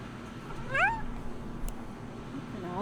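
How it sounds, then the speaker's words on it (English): A pet cat gives one clear, close meow, a rising-then-falling cry, and then starts another at the very end, over a steady background hum from a computer. "All the meows you hear is my kitty cat."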